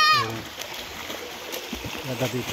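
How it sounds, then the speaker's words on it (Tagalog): Children splash while swimming in a cold, spring-fed resort pool in Sarangani, Mindanao, with close water splatters scattered through the clip as an adult talks over them. "Yung mga nagsi-swimming na mga bata."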